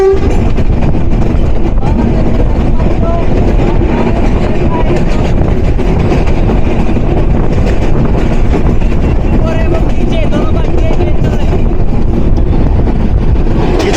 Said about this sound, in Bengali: আজকে দুর্দান্ত মুহূর্তে আপনাদেরকে লোকোমোটিভ থেকে দেখাবো কেওয়াটখালী রেলওয়ে ব্রিজ থ্রু